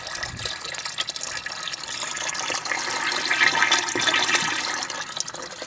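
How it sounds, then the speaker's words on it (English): Water running steadily from a sink faucet in a tiny house and draining into a gray water hose, a continuous close rushing splash that swells slightly and holds for several seconds without talk. "Okay, sink is on. And then the water is flowing."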